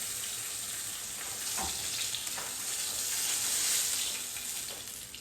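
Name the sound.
fish frying in oil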